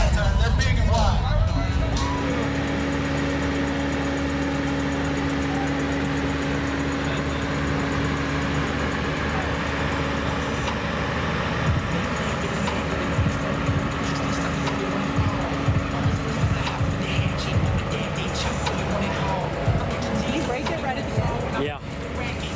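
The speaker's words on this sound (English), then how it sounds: "That's what 500 horsepower side by side." A 500-horsepower side-by-side on a big tire course, its engine a continuous loud drone with a steady low tone, while people talk and chatter nearby.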